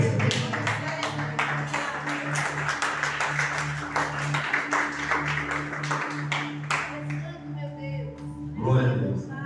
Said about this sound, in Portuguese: Pode se sentar e bater as palmas de Jesus que ele merece